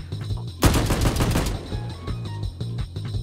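A Kar98 bolt-action rifle fires in the shooter game Blood Strike: one sharp, loud shot rings out and fades into a short tail, with faint mechanical clicks and game sounds after it.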